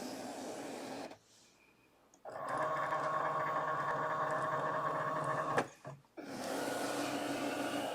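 A Cricut Maker 3 cutting machine loads and measures a sheet of smart paper with a steady, close mechanical whirring and hum. The sound pauses briefly and then resumes after a short clunk.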